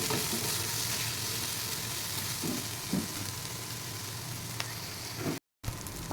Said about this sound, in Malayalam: നന്നായിട്ട് ഫ്രൈ ചെയ്യാമേ.